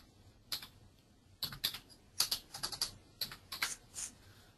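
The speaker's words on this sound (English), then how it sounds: "I'm going to type in the next ISBN" Keys tapped on a computer keyboard while entering an ISBN number into a library cataloguing system, a quiet, close series of short irregular clicks in small bursts with brief pauses between them.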